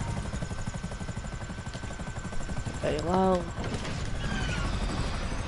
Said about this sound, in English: And not die by the helicopter.